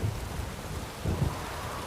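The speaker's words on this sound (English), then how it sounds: "A storm, damn it." Stormy weather in The Witcher 3 game: a steady low rumble of rain with a swelling roll of thunder near the end, loud and continuous with no voices over it.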